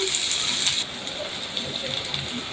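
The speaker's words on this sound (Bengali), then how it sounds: "পেঁয়াজটা একটু ভেজে নিচ্ছি হালকা করে" Chopped onion frying lightly in hot oil for a tomato and pointed gourd mash, giving a steady close hiss that runs without a break through the whole short stretch.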